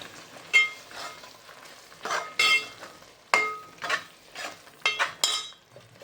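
A spoon stirring fenugreek leaves into a stuffed bitter gourd (karela) filling in a pan, with soft scraping strokes and intermittent metallic clinks in an irregular rhythm over a faint sizzle, close up and fairly quiet.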